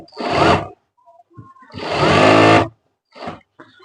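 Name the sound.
sewing machine stitching a ladies' trouser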